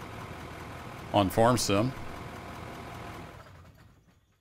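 A vehicle engine idles in the mining game Out of Ore as a steady low hum beneath a brief spoken phrase, then cuts out and fades to near silence in the last second.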